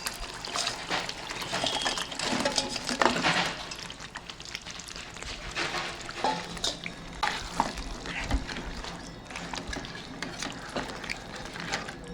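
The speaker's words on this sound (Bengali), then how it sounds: "এবার আমি ভেজে রাখা কাঁকড়াটা দিয়ে দিচ্ছি" Fried crab pieces drop into a cooked spice paste in a pan, with close, loud clattering stirs, wet squelches and a steady sizzle running throughout, no speech.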